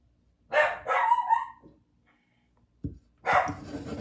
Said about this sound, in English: Y'all can hear my crazy dog barking in the background.